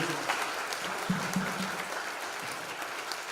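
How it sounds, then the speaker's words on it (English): Congregation applause at a Sunday church service welcoming visiting members from Japan, a fairly soft, even patter of many hands clapping, with a few faint voices murmuring underneath. "Let's give this tour a round of applause for you."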